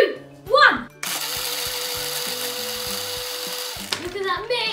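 A blender whirs steadily for about three seconds as it purées a strawberry smoothie, loud and close, starting abruptly and cutting off sharply, with a voice heard just before and after.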